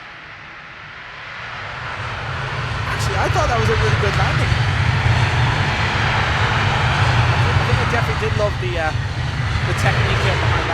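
Simulated airliner roaring with reverse thrust just after touchdown at Funchal in X-Plane 12, a loud steady engine drone building up and holding throughout while someone talks over it.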